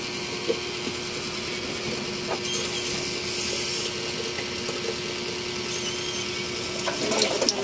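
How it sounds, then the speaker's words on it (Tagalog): Steady hiss of water poured into a cooking pot holding mung beans, with faint metallic clinks and scrapes from the pot, close and moderately loud with no talking. "lagyan natin na ang tubig."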